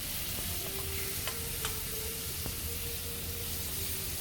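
Tuna frying in a pan with sautéed peppers, giving a steady close sizzle with a few stirring clinks, and no voices present.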